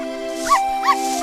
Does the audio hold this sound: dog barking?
yes